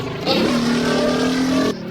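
In a self-made video game with a manual gearbox, a car engine revs loudly and holds a steady high whine for over a second, then cuts off.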